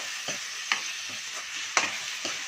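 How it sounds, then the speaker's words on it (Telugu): Onions fry in a pan for a Godavari-style crab curry, a soft, steady sizzle broken by several sharp scrapes and clicks as a spatula stirs them at irregular intervals, close and fairly quiet, with no voices. "ఇది ఉల్లిపాయలు ఇలా వేగాలి బాగా"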